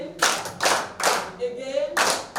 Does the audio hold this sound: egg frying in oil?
no